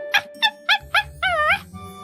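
A small white dog gives a run of short high whimpers and yips, four quick cries followed by a longer wavering whine, close and clear with no talking.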